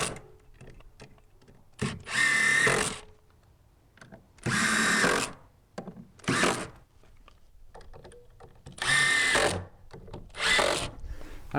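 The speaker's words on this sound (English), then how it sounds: "So I'm going to drive these screws home." A power drill drives screws into wooden deck stair stringers in four or five loud whirring bursts, each a second or so long, separated by quiet pauses with faint handling noise.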